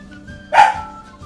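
A dog gives one sharp, loud bark close by, standing out clearly over a quiet indoor background.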